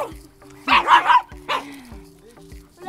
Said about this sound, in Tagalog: nakakita ka na naman ng aso